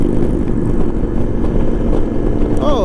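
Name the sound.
motorcycle passing on the road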